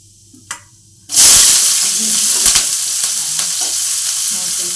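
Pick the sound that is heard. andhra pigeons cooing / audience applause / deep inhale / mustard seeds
mustard seeds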